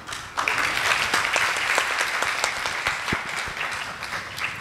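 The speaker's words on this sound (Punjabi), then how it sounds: "ਤਾੜੀ ਮਾਰ ਦਿਓ।" Audience at a Punjabi poetry recital clapping, dense applause starting abruptly and holding steady, close and full, with brisk individual claps audible through the wash and no talking.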